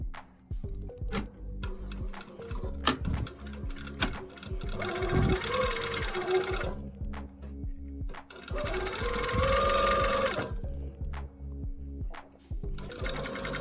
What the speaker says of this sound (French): là je vais à la machine piquer